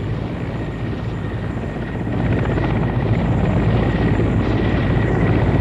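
Loud, steady rotor thrum of Mi-8 military helicopters in tight formation, growing a little louder midway as they lift off from a landing zone, with no voices.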